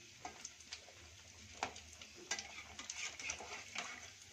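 Coriander vada frying on a low flame in a pan, a soft faint sizzle with light scraping and tapping as the pieces are turned over, quiet and close with no talk.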